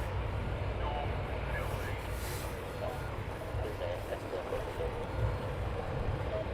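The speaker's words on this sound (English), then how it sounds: "you can hear the Lancaster doing an engine run" An Avro Lancaster bomber runs its engines during a ground engine run at RAF Coningsby, a distant, steady low drone heard through wind noise, with no talking.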